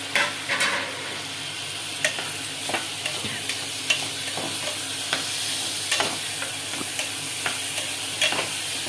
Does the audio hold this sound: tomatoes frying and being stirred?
yes